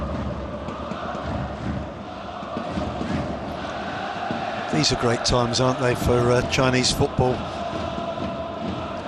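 Stadium crowd noise at a Chinese football match, an AFC Champions League group game between Shanghai SIPG and Kawasaki Frontale, rising into a broad roar with chanting bursts in the second half, under continuous commentary.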